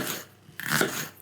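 A knife slices through a crisp green pepper for a salad, giving one sharp, close crunch after a short lull, with no talking.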